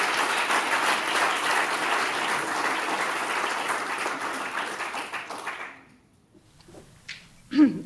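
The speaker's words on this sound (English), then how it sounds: "I want you to give Rachel a big round of applause." An evening presentation audience bursts into dense, sustained applause for several seconds, then it stops abruptly and only faint room noise and a brief murmur remain.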